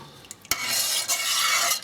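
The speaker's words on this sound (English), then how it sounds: "I'll give this a good stir" A spoon stirs a food colouring dye bath for hand dyeing, a sharp clink followed by a steady swishing, scraping swirl of liquid, close and fairly loud, with no voices.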